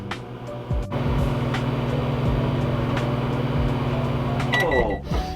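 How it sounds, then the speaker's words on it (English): A microwave oven heating Trader Joe's chicken adobo hums steadily after a door click, its motor drone running evenly close by, with a voice murmuring briefly over it and a clunk near the end. "In the microwave for 4 minutes."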